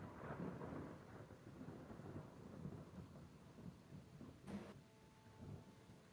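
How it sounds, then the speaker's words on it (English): Low, rumbling thunder rolls continuously in a storm sound effect for a fantasy tabletop game, deep and fairly faint, with a rain-like wash throughout and no one speaking. "The sky continues to crack and thunder."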